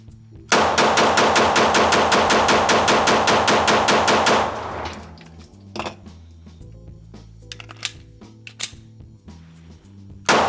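Rapid string of about twenty loud, evenly spaced 9mm shots from a Canik Prime Radian pistol with 115 grain MagTech ammo, then quieter clinks and handling noises after the firing stops.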